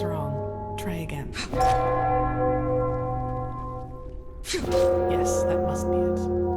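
Struck with a bell hammer in the fantasy game Enderal, bells ring twice in loud, resonant strikes, each leaving long shimmering overtones that hang and slowly fade before the next hit lands.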